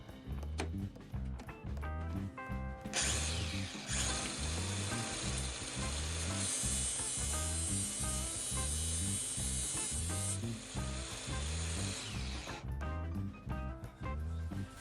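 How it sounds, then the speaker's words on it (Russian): An angle grinder clamped to a table grinds down the end of a hammer handle, a steady harsh whine and rasp lasting about nine seconds, played over a rhythmic background beat. "Для этого я использовал ту же болгарку, прикрепленную к столу с помощью струбцины."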